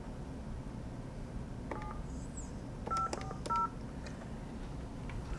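Telephone number dialed on a phone, a string of short DTMF keypad tones in two quick bursts, clear and close over a low background hum.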